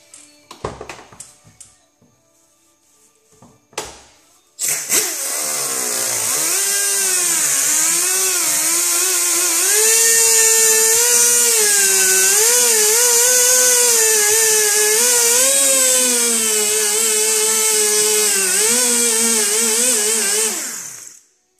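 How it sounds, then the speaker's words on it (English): A power grinder cuts into body filler on the damaged panel of a 2005 Honda S2000, whirring loudly and continuously with a wavering pitch after a few soft knocks and handling sounds. "I'm just going to grind out where I need the Bondo glass to go"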